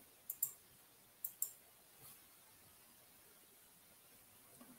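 Computer mouse clicking while selecting a row on screen: two quick pairs of sharp, faint clicks close by, then near silence.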